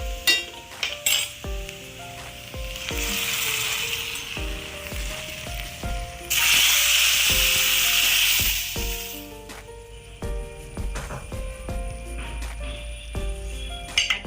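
Hot fried tempering poured into a prawn and ridge gourd curry, bursting into a loud sizzle that swells mid-clip, with utensil clinks and pan knocks before and after.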